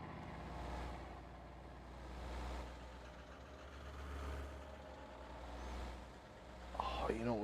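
A truck engine in a Farming Simulator 22 game idles steadily with a deep low rumble that swells and eases in slow waves, and a brief higher whine rises near the end.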